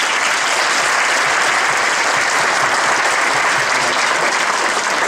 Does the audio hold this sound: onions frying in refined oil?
no